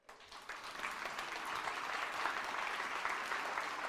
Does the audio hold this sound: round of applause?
yes